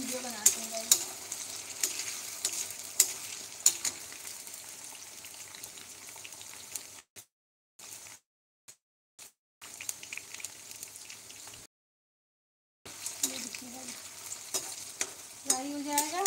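Potato French fries fry in hot oil in a small home kitchen, giving a steady crackling sizzle with bubbling pops, briefly cut out midway and then resuming.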